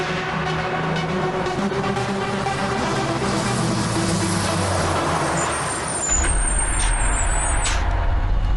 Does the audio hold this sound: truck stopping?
yes